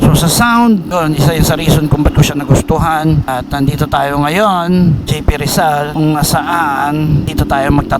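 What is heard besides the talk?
No everyday noises stand out.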